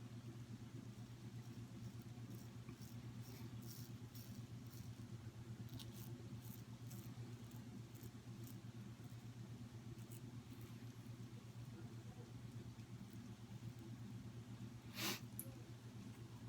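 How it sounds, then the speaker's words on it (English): Steady low traffic rumble from cars passing outside on a rainy day, continuous and moderately distant, with faint ticking sounds above and a brief sharp noise near the end. "You can hear the cars going by."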